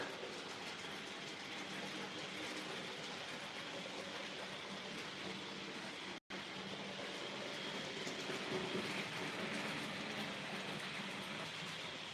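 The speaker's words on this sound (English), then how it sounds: "I hope you're enjoying watching a few trains go by." A train rolls past on railway tracks during a stormy, rainy day, a continuous broadband rumble and hiss with faint rhythmic clatter, heard from trackside at a moderate distance, with a brief dropout midway.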